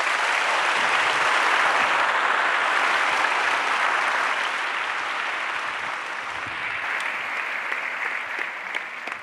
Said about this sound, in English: One big round of applause for everyone.